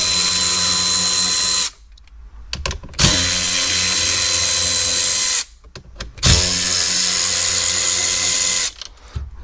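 Bolts come out of a dashboard panel on a Mercedes CLK W209 with a power tool, loud continuous whirring bursts broken by two short pauses and a clack, with no talking.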